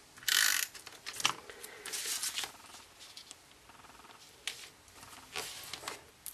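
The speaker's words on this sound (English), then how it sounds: "Now I'm going to apply some snail adhesive to this piece." A snail adhesive tape runner is rolled across a paper piece for a card project, giving faint, quick ratcheting clicks and ticks in short bursts in a quiet room.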